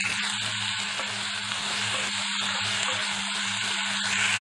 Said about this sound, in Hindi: इप्पुडु इंदुलो आनियन्स् वेसुकोनि फ्रै चेसुकोवालि।